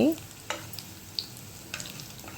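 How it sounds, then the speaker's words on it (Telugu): Spices tempering in hot oil for a Telugu carrot and moong dal dish sizzle quietly, with a few sharp spoon clicks and scrapes as they are stirred. "ఇప్పుడు వేగిపోయింది కదా పోపు"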